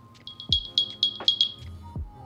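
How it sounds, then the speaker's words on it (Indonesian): The charging case of AirPods Pro 2 plays its Find My alert, a short series of bright, chirping high tones pulsing in quick succession, heard alone and close. "Kita bisa bikin dia bunyi lewat HP kita."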